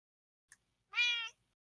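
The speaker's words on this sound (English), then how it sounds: "Hello, Hippo Cat." A house cat gives one short, clear meow up close in a quiet room, preceded by a tiny click.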